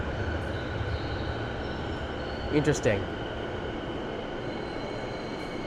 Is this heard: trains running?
yes